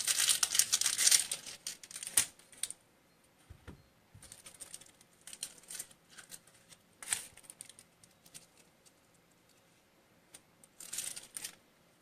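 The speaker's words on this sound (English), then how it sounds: "We're going to peel off the outer layer of our onion." Papery outer skin peeled off an onion in a kitchen, a string of faint crinkly crackles and tearing rustles coming in short bursts with quiet gaps, close and soft, no voices.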